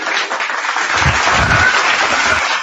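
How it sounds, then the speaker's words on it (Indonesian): Continuous crowd applause fills a religious debate hall, a dense wash of clapping with low thumps partway through and no speech on top. "Tepuk tangan lagi."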